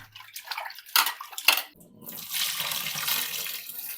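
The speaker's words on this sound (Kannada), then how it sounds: "ಇವಾಗ ಚಿಕನ್ನ ಸ್ವಚ್ಛಂಗೆ ತೊಳ್ಕೊಂಬಿಡೋಣ್ರಿ" Raw chicken rinsed under a running kitchen tap while preparing a hariyali chicken dish, water splashing steadily and loudly over the meat after a few brief drips and clatters.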